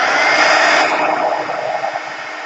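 A heat embossing tool blows hot air in a steady, loud, breathy whoosh that stays even for about two and a half seconds, with no talking.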